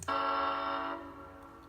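A sustained electronic horn from a Digitrax model locomotive sound decoder holds briefly, then fades and trails off into a quiet tail as the sound ends.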